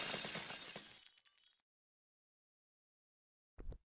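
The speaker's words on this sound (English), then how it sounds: "the glass breaking sound" Glass shatters loudly in a train station renovation video game, crashing and then quickly fading to silence, followed by a brief soft knock.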